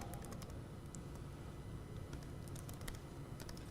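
Computer keyboard typing, quick light key clicks in irregular bursts, faint and close, with a low hum underneath and no talk.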